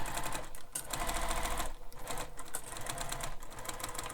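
Sewing machine backstitching over a zipper on a bag, with fast rhythmic mechanical stitching that stops briefly and reverses in short bursts, close and clear with no voices.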